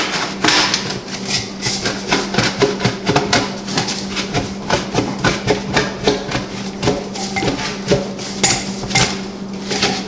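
A metal hose clamp clatters and scrapes as it is worked onto an aluminum dryer vent hose, producing a quick run of close, irregular taps and rattles throughout.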